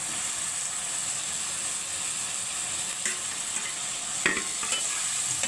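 Potatoes fry in a cooked spice masala in oil for a pointed gourd and prawn curry, giving a steady, hissing sizzle. A couple of brief clatters of a utensil come in late, close and without talk.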